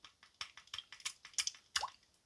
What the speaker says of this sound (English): Should be able to squirt water, and then let's go in a cup at first.